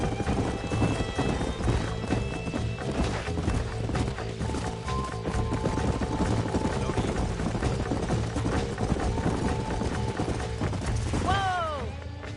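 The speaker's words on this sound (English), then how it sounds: "These are fine horses" Horses' hooves clip-clop continuously in the Red Dead Redemption video game, a busy rhythmic trotting under game music and ambience, ending in a loud whinny; voices talk at times.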